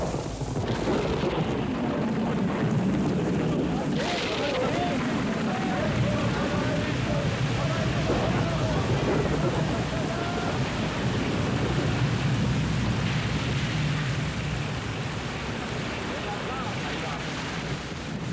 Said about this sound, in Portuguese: Jesus estava dormindo quando começou uma tempestade.